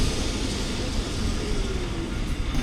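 A slow, crowded wooden tram rolls along with a continuous, moderately loud rumbling and rattling drone and no voices.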